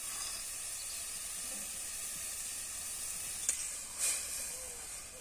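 Oil sizzles and hisses steadily in a pan after soda is added while cooking lafa greens, a dense broad hiss with a few brief scrape or stir clicks near the end, no voices.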